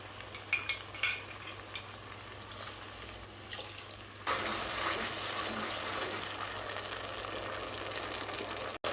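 A soy sauce and cornflour-water mixture for Indo-Chinese ginger chicken bubbles and hisses in a pan. Faint clinks come first, then a steady, fairly loud boiling hiss takes over for the rest.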